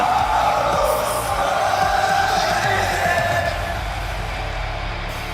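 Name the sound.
wrestling crowd singing along to entrance theme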